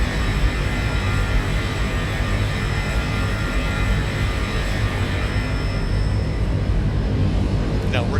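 A steady, loud airliner engine roar, heard from outside the aircraft at cruise, fills the recording as a continuous drone with a faint high whine.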